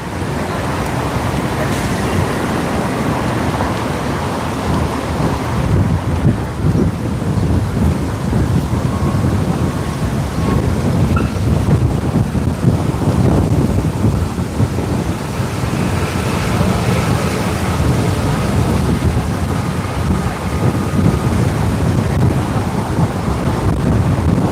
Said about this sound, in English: Man, it is windy today.